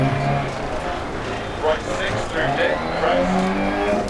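A rally car in the DIRT Rally video game on the Argolis, Greece stage gives a loud, continuous engine drone with shifting revs and tire noise on gravel, with no voices heard.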